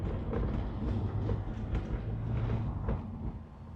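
A Honda S2000 rolls over railroad tracks, a steady low rumble with a few faint bumps and rattles, no voices.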